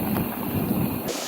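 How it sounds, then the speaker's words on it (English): A breeze blows across a wet, muddy mountain bike trail partway up a climb. It comes as a brief, rough rush of wind buffeting the microphone, loud and close, and cuts off abruptly near the end. "The breeze is lovely"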